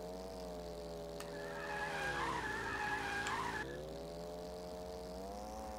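A kart drifting in the video game All-Star Fruit Racing on PS4, a squealing tire skid that rises for about two seconds over a steady whining engine drone, fairly loud and with no talking.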